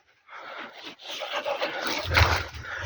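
A dog at an abandoned building dating from 1957 gives rough, growling bark-like bursts close by. They run almost continuously for about three seconds and grow loudest toward the end.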